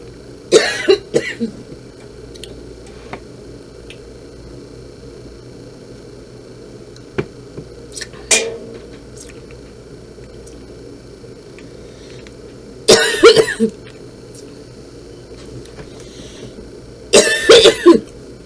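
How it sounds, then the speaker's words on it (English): Several bursts of coughing spread across a quiet room with a low fan hum, a cluster early on, then two harsher fits later, each a few rough barks. "worst cough still from that freaking cold I've had"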